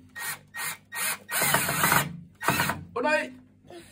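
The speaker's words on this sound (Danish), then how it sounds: "Og der er lys i boremaskinen" A cordless drill with a built-in light drives screws into a ceiling in repeated loud whirring bursts of varying length, each stopping and starting close by, with a ratcheting buzz in one pass.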